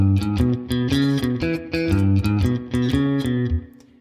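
A distorted electric guitar plays a repeating two-bar 12-bar blues riff, choppy chords and single notes in a steady shuffle rhythm, loud and close, fading out at the end.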